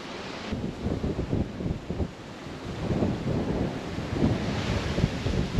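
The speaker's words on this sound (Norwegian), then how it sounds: "Men i dag var det veldig mye vind." Strong wind in a harbour, gusting across the microphone in a rough, rumbling roar that rises and falls unevenly, loud and close with no other clear sounds.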